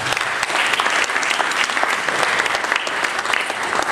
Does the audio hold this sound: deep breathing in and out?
no